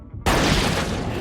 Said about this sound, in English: Who did he just shoot?